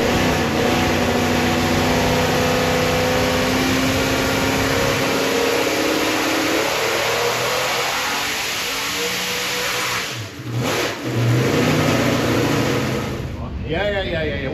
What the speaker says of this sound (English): We're just going through a general warm up process to make sure that the engine is actually the same every time we make a pass.